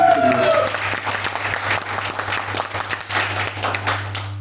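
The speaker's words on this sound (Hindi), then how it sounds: "इसी बात में जोरदार ताली।" Loud audience applause at a business seminar, a dense burst of clapping that carries through with fluctuating intensity and faint voices mixed in, over a constant low hum.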